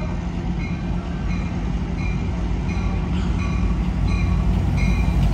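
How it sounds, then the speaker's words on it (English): The Amtrak San Joaquin train pulls into Stockton's San Joaquin station with a steady, loud rumble of wheels and rail noise that builds slowly, heard alone without voices. "Here she comes now."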